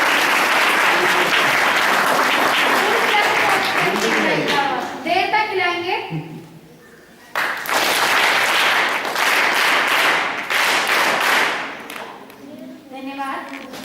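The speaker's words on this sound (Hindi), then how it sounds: "इनके एक बार जोरदार तालियां" Loud applause from an audience at a school function in Khatima, Udham Singh Nagar, sustained clapping that drops briefly mid-way and then surges back, with a speaking voice cutting in between.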